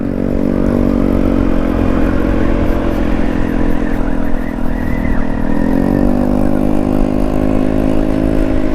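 A motorcycle engine, a Honda ADV 160 scooter still being broken in, drones steadily at close range, its pitch shifting upward partway through as the rider changes speed.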